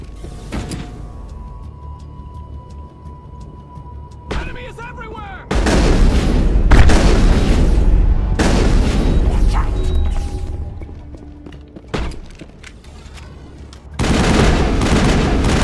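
Gunfire and heavy booming blasts from a Mass Effect firefight come in loud bursts with mechanical clanks between them, the shots broken up by abrupt pauses.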